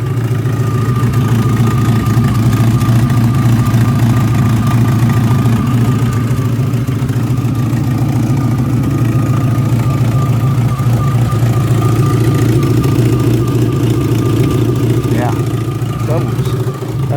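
A Volkswagen Golf engine idles roughly with a loping, uneven grumble and a faint ticking puff from an exhaust leak, steady and close throughout.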